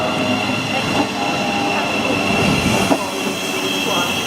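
Steady rumble of a train in motion heard from inside, near Northampton, England, with a constant high whine and occasional rattles and clicks from the rails.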